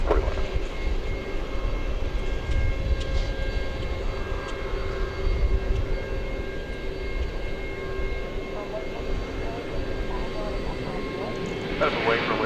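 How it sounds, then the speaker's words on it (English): A five-year-old Boeing 767 cargo jet at DFW airport at night, its engines a steady, broad roar with a low rumble and a faint tonal whine, holding at an even level throughout. "Here's the 5-year-old 767 cargo."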